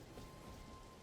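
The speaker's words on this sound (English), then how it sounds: "it's literally raining everywhere in the Weeping Peninsula" Steady rainfall across the Weeping Peninsula in the video game Elden Ring, a faint continuous hiss of rain with no voices.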